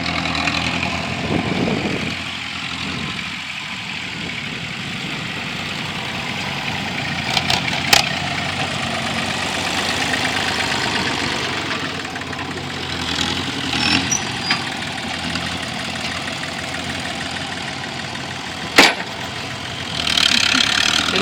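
A loader engine runs steadily in an open field, a mid-distance continuous rumble with a few brief clanks and bumps over the top.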